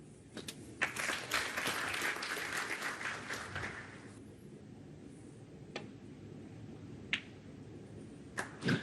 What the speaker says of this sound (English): some people were starting to applaud